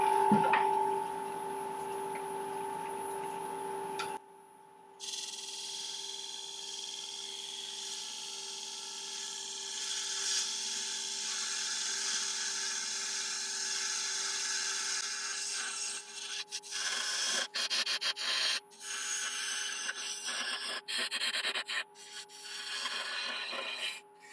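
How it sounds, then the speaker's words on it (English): Woodturning on a lathe: a half-inch spindle gouge cuts a Balinese teak hollowform vase, producing a steady, continuous scraping rasp over the lathe's hum, broken by brief pauses and catches. "So I'm just switching over to a 1/2 inch spindle gouge for this part."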